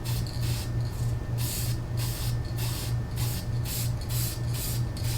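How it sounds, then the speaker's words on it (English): Spray gun hisses in rhythmic bursts while painting the front suspension shaft parts of a 1963 Ford Falcon Futura hardtop, close and loud, with a steady low compressor hum underneath and no talk. "we're going to give her a good old spray job"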